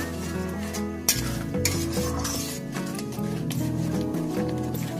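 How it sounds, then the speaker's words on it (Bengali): Whisked yogurt is stirred into frying mutton masala in a kadai on a low flame. A constant sizzle carries close, busy spatula scrapes and occasional clanks against the pan, with nobody talking. "টক দইটাও আমি মশলার সঙ্গে খুব ভালোভাবে মিশিয়ে নেব।"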